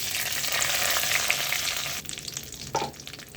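Broken dried red chillies drop into hot oil with cumin for sambar, a loud steady sizzle that then breaks into spatter and stirring scrapes, close by with no voices.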